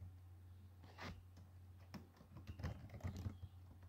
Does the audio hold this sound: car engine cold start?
no